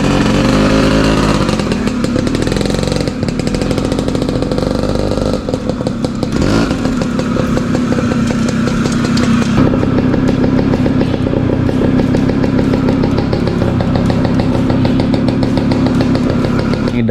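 A 10-year-old Yamaha Sport 100 motorcycle, left parked for a long time with a stuck clutch, idles steadily and loudly nearby, its engine rattle continuous and unbroken throughout with no talking.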